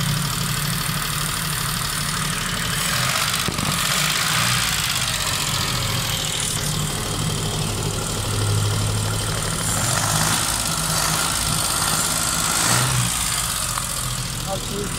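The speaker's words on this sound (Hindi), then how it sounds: "गाड़ी स्टार्ट है" A Suzuki Khyber car idles steadily after a carburetor repair, its low, even engine hum running close by for the whole stretch while someone talks over it.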